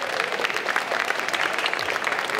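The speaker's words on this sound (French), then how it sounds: "on peut l'applaudir très très fort" Loud, continuous applause from a crowd at a geek convention Disney concert, a dense wash of clapping filling the whole moment without speech.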